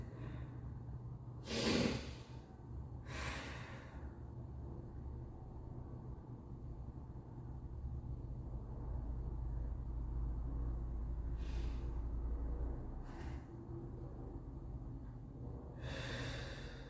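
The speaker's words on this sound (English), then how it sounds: "Let's breathe." Deep breaths during a yoga stretch, a few audible inhales and exhales spaced several seconds apart over a low steady background rumble.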